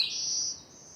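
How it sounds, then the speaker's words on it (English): Black-throated blue warbler singing near a marsh edge: a bright, sustained high buzzy song phrase, loud and close, with a second brief note near the end and no talk. "Oh good, my second black-throated blue warbler."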